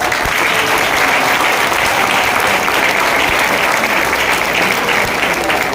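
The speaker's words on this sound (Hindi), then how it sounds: "अभी ये जो आपने ताली बजाई" A crowd at a business plan presentation claps steadily to welcome newcomers, a loud continuous wash of hand clapping that runs unbroken throughout.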